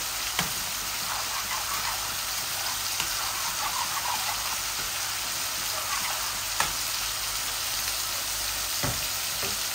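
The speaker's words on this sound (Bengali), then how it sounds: "এখন শুধু এইভাবে নাড়বো, এটাকে শুকাই ফেলবো।" Black cumin, garlic, onion and green chillies are stir-fried in oil, producing a soft, even crackling sizzle with occasional light taps of a spoon against the pan.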